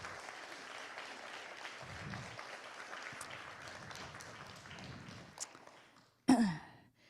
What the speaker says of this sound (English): one more round of applause because you know I love it